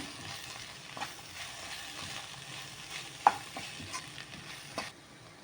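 Salt and turmeric powder are stirred into a frying mixture for Goan choris chilli fry, with a soft steady sizzle and occasional light scrapes and taps of the spoon against the pan.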